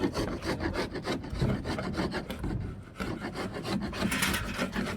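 Excess epoxy scraped and rubbed off a wooden canoe hull in short, rasping strokes, quiet and close, repeating irregularly.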